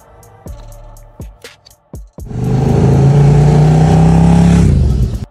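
Several sharp throttle blips from a 2011 KTM RC8 R motorcycle's 1195cc V-twin engine, then a loud sustained rev that holds for a few seconds before cutting off, up close.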